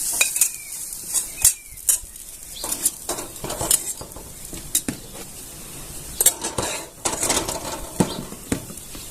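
Fried capsicum and onion being scooped out of a pan into a bowl, with repeated close metallic scrapes and clinks of a spoon against cookware over a faint background sizzle.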